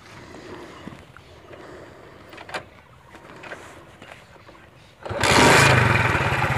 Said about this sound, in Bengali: তো আমরা এখন দেখবো বাইকটির সাউন্ড কোয়ালিটি। একটু স্টার্ট দে।